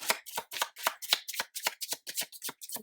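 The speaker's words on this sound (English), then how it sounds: "They shuffle this way." Oracle cards being shuffled by hand, a rapid series of about a dozen crisp riffling snaps in a steady rhythm, close and clear with no talking.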